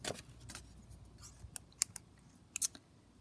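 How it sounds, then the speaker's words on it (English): Small scissors snip a tiny paper butterfly out for a journal page, giving a handful of quiet, irregular crisp clicks and snips close up, with faint rustling of paper between cuts. "So I'm just going to cut this butterfly out."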